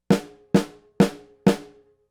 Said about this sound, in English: So the sticking with the right hand lead would be right, left, right, right.